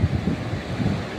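Waves surge and a strong current rushes through deep water, a steady low wash of surf and churning flow, with wind buffeting the microphone throughout.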